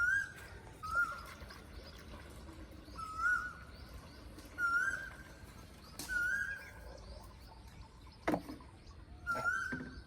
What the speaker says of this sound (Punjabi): ਬੁਲਬੁਲ ਵੀ ਬੋਲਦਾ ਪਿਆ ਹੈ